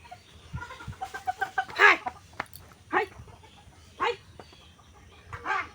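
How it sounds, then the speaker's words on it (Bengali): Chickens cluck and squawk in agitated bursts while being chased by a fox, with rapid clucks followed by several loud, separate alarm squawks spaced a second or so apart, fairly close. "শিয়ালে মুরগি ধাওয়া করেছে ধরার জন্য"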